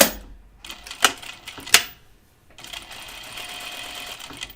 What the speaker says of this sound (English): So I'm just going to edge stitch this.